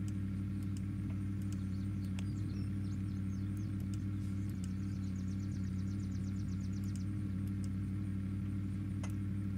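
A car in Unturned drives along with a steady, low engine rumble and hum that holds constant throughout, with a few faint clicks and ticks above it.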